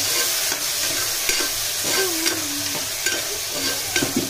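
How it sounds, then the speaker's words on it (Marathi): Chopped tomato is stirred into onions fried golden for soybean khichdi: a steady close sizzle runs throughout, broken by a few soft spoon scrapes and knocks against the pan, with no talking. "आता आपण हा चिरलेला टमाटा ह्याच्यात टाकणार। मिक्स करून घ्यायचा।"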